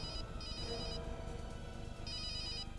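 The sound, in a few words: telephone ringing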